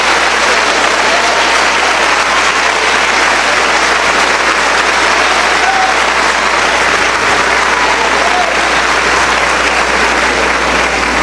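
Loud, dense applause from a large church congregation fills the space steadily and evenly from start to finish, with no voice over it.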